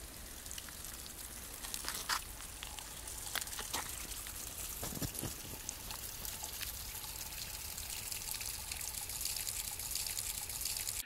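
A water swirler (Wasserverwirbler) from Native Power produces a broad, aerated water jet, heard as a steady rushing, splashing pour with scattered droplet patter, close and continuous with no talk.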